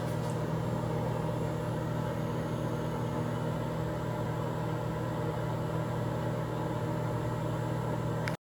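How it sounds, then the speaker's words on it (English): A microwave oven runs with a steady, even hum and whir that carries on unchanged for several seconds, fairly quiet, with no voices. "I'm gonna put this into the microwave 1 minute and 30 seconds"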